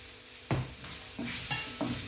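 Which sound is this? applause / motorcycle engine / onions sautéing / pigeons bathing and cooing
onions sautéing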